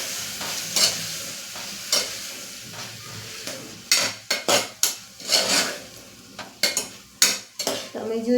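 Spices are stirred into a guvar (cluster bean) and potato curry in a pan, giving a steady sizzle under repeated scraping, clinking stirs that come in quick bursts, close and fairly loud.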